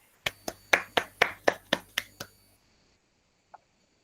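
About nine sharp, evenly spaced claps ring out in a classroom at a quick steady rhythm, close and distinct, then stop, followed by one faint tap after a short pause.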